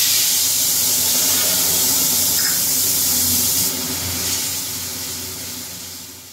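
Spice paste hits hot oil for a koi fish curry, giving a loud, steady sizzle that hisses close up and eases slightly toward the end.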